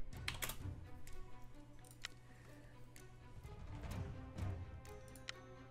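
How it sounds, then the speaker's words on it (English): Typing on a computer keyboard during a Town of Salem 2 game, a quick irregular run of close, crisp key clicks and taps with a few louder strokes, steady throughout and without voices. "I'm not typing my fucking name."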